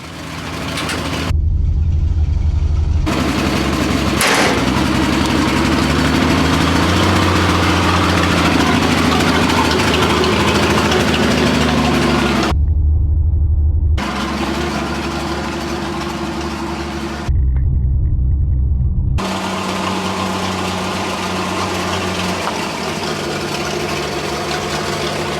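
The engine of a 1970 International Harvester Scout runs loud and close, holding a rough, steady idle with a deep low rumble, broken by a few sudden dropouts.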